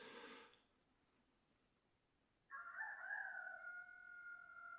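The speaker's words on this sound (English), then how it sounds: "There's the rooster." A rooster crows once, loud and fairly close, a sustained drawn-out call that breaks a quiet pause after a brief earlier noise.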